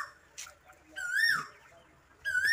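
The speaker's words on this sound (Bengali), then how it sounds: "শুনতে পাচ্ছ কত সুন্দর কোকিল পাখি ডাকছে" An Asian koel calls outdoors in a village, two clear rising-and-falling whistled notes about a second apart, fairly close and prominent over faint background sounds.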